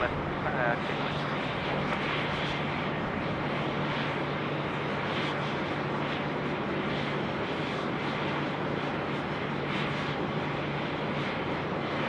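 A steady, broadband jet roar from an airliner landing on runway 34 left at Sydney Airport, constant and fairly loud from start to finish, with a faint radio voice over it.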